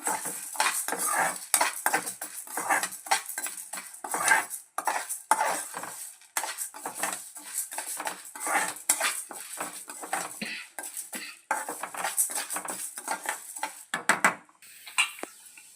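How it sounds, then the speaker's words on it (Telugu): Urad dal and toor dal are fried in a pan for a drumstick-leaf spice powder, with a close, busy run of metal spoon scrapes and clinks against the pan over a light sizzle. "మినపప్పుతో పాటు కందిపప్పు కూడా వేసేసానండి. ఈ రెండు కూడా దోరగా ఫ్రై చేసుకుందాము."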